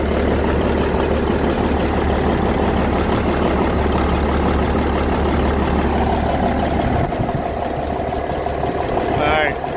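A Cummins Big Cam diesel in a 1985 GMC General truck idles with a steady, loud low rumble and mechanical clatter throughout, while someone talks over the engine noise.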